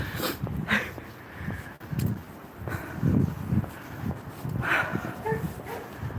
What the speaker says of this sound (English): I can hear my dogs.